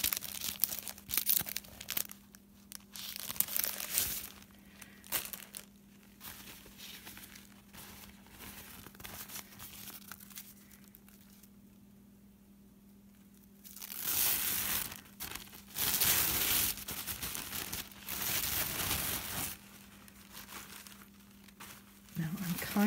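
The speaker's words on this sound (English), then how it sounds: "So I just cut away, cut right through the spine." Paper crunching and tearing as a blade cuts through the spine of a book being taken apart for journal covers, in bursts of crumpling noise with a voice speaking at times in between.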